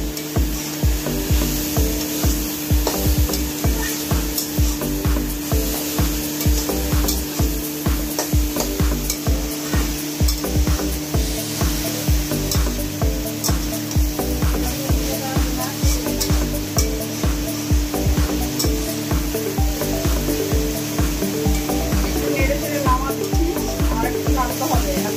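Bay leaves sizzle in hot cooking oil under a steady, fast, rhythmic scraping of a spoon against the pan, with the repeated strokes continuing throughout.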